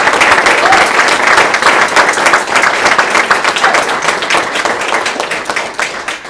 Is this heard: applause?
yes